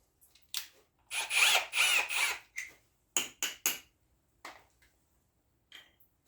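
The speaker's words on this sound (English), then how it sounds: "We'll hit this with some sandpaper just to smoothen it all out." Sandpaper smooths the edges of a cutout made for a fuel line shut-off on a Toro snow blower. Close, raspy rubbing strokes come in a quick run, then a few scattered lighter swipes with pauses between, and no speech.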